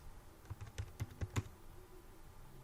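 Keys clacking on a computer keyboard in a quiet room, a short burst of about eight to ten distinct taps in an uneven rhythm, close and moderately loud, with no talking.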